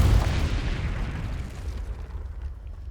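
A Confringo blasting spell goes off in Hogwarts Legacy, a loud booming explosion at the start that rumbles and fades over the next few seconds, with no voices.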